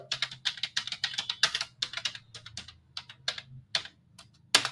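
An address is typed into Tally accounting software on a computer keyboard: close, crisp key clicks in quick irregular bursts with brief pauses, and one louder keystroke at the end.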